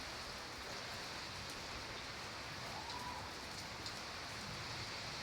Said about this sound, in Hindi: आखिर बारिश होने ही लगी